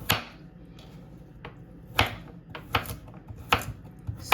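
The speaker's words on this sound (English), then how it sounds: "I'm going to go ahead and slice all these up" A knife chops coconut into small pieces on a board, landing in irregular sharp taps close by, some louder than others, with no talking.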